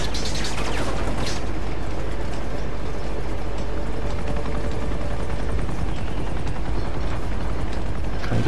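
A helicopter in the video game Uncharted 2 thunders with dense, continuous gunfire and blasts, a loud, saturated wall of rotor noise and shooting with no pauses.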